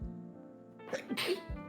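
A single sneeze, a sharp inhale followed by a bursting, breathy release close to the microphone during a quiet conversation setting, moderately loud and over in about half a second.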